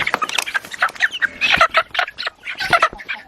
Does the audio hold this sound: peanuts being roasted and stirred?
no